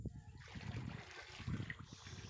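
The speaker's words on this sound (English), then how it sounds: "So now I'm pouring my caustic water." Caustic lye solution for soda soap being poured from a cup, a soft continuous splashing trickle with faint low thumps, quiet and close.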